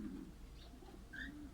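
Released canaries and other birds calling around their nesting houses, with a few soft coos and brief chirps over a steady low background hum, faint and somewhat distant.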